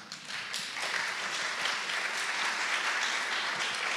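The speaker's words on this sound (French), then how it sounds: "C'est très bien d'applaudir Marc" Steady applause fills a conference hall at a university forum, a dense wash of clapping from the audience that holds evenly for about four seconds with no voices over it.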